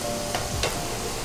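Potatoes frying in hot oil while being stirred and lifted from the pan for a restaurant-style tomato fish dish, with a steady close sizzle and a few sharp scraping stirs.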